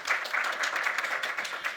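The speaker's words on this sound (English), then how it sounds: "national pride, round of applause" Steady applause from many hands during a business talk on scaling start-ups, a dense continuous patter at even loudness with no voices over it.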